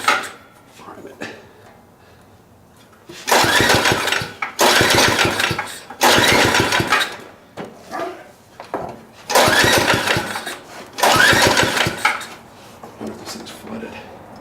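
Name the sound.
Manco Big Cat mini bike engine being started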